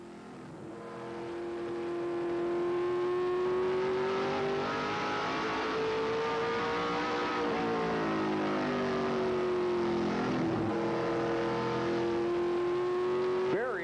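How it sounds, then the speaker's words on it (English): From onboard a short-track stock car at LaCrosse Speedway during the 1996 Oktoberfest ARTGO 100, a loud, steady engine drone rises and dips in pitch through the corners, with faint commentary underneath. "let's hop aboard the Trop Arctic motor oil car and go for a ride"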